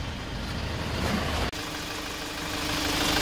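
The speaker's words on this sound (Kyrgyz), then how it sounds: "моторунда жүргөнүн көргөзөйүн." The engine of a 2014 Hyundai Porter small truck idles as a steady, close, low rumbling drone. One brief click breaks it partway through, and no one speaks.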